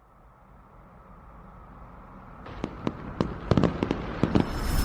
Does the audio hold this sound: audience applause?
no